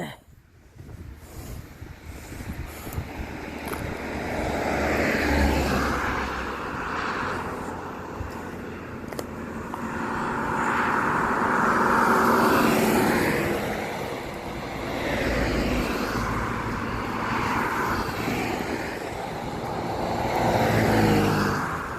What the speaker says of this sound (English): Lots of traffic, as you can hear.